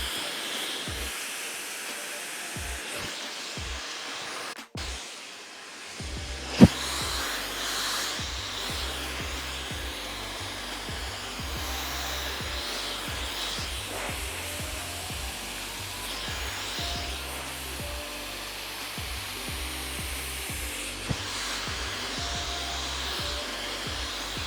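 A blow dryer fitted with a nozzle runs steadily while drying and smoothing hair into lived-in waves, a continuous close airy whoosh with brief interruptions near the start and faint background sounds.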